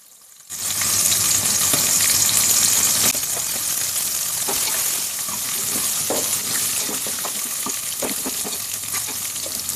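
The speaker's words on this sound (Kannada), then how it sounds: "ಅದರೊಟ್ಟಿಗೆ ಕಟ್ ಮಾಡಿ ಇಟ್ಕೊಂಡಿರುವಂತಹ ಈರುಳ್ಳಿ ಹಸಿಮೆಣಸಿನ್ಕಾಯನ್ನು ಕೂಡ ಹಾಕ್ಕೊಂಡು ಫ್ರೈ ಮಾಡ್ಕೊಳ್ತೀನಿ" Onions and green chilies sizzle and fry steadily in hot oil with whole spices for kushka, a loud continuous crackle that starts abruptly and holds, with occasional stirring clinks.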